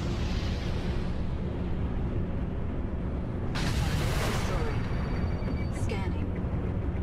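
A ship-launched missile fires in the space game Star Citizen as a sudden roaring burst of about one second, under a steady engine hum with a voice speaking over it.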